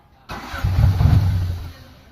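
A Honda Civic ESi engine with hard starting and a low idle cranks briefly and then catches, settling into a low, rough rumble that fades slightly toward the end.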